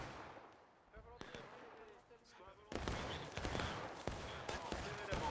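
Scattered musket volley fire in the American Civil War video game War of Rights, heard as faint crackling shots and bursts at the Pry Grist Mill, growing denser partway through, with voices talking over the gunfire.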